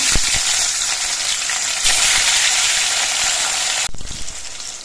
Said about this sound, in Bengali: বাকি মাছের পিস দুটো ভেজে নিচ্ছি